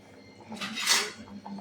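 A metal lid is set on a pot of fish curry made with elephant foot yam, a brief rattling clatter with a bright ringing peak in the middle, close and moderately loud, with no talk.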